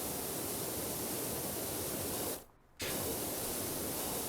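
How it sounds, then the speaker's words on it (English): Pressure washer spray on rusty hinges in PowerWash Simulator: a loud, steady broadband hiss, alone, that cuts out briefly for about a third of a second midway before resuming at full strength. "But a little bit of spraying and we're sorted."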